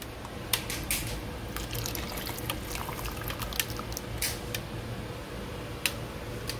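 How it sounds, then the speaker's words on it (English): Water running and splashing into a blender to rinse it, with scattered clinks and drips over a steady low hum, close and fairly quiet. "I'm just gonna put a little bit just so I can rinse a little blender."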